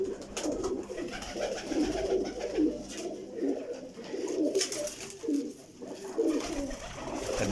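Several pigeons coo softly in repeated rolling phrases, a gentle close flock murmuring continuously at moderate volume with no talking.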